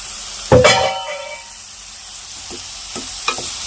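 Meal maker soya chunks frying in a pan with other ingredients, a sharp stir and clatter followed by a soft steady sizzle and a few faint scrapes, alone without talk.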